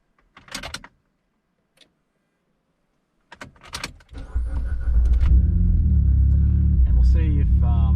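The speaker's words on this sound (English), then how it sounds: "So what I might do is I'll start the car up." A Mitsubishi Evo X has a few short clunks and rattles, then the engine cranks and catches at about four seconds and settles into a loud, steady idle rumble close by.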